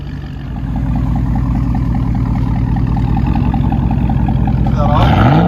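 Chevy Suburban with a 5.3L V8 and Flowmaster Flow FX muffler rumbles steadily and loudly at a deep low idle throughout, with a brief rising rev near the end; people talk over the exhaust.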